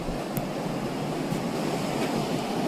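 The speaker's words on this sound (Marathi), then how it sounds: "तोपर्यंत भरती बघा, भरतीचा अनुभव घ्या मित्रांनो" High-tide sea waves at Kelva Beach roll in as a continuous broad rushing wash, with faint wind buffeting the microphone and no voices.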